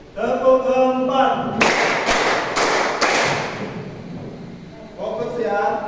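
Classroom pupils clap together four times in a steady rhythm, each clap crisp and room-filling, with a teacher talking before and after.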